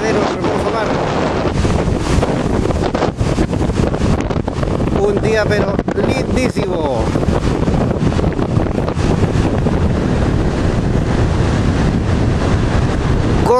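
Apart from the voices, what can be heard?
strong wind on coastal cliffs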